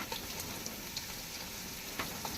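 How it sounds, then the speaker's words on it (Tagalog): Frog meat cooking in a hot pan gives an even, continuous sizzle with small scattered pops and crackles throughout, close and moderately loud. "siyempre ilalagay na natin itong palakay"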